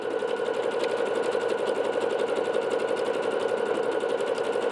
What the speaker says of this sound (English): Now we're on the highest speed setting of our Bernette today. So this is the fastest we can stitch out